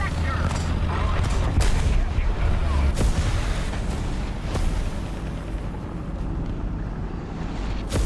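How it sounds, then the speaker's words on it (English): Artillery barrage in War Thunder ground battle, a continuous rumbling wash of deep booms and scattered sharp impacts, loud and dense throughout, with a voice heard briefly over it. "I use the artillery for distractions."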